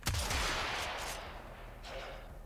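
A Cornith shotgun fires in the video game Warframe, with one sharp, loud blast followed by a long rumbling tail and a smaller burst near the end.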